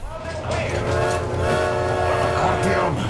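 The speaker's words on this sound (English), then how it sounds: "I also enjoyed pulling on the train whistle to literally let off steam" A steam train whistle from the video game Metro Exodus sounds in long, steady harmonic tones, with low rumbling machinery underneath for about three seconds.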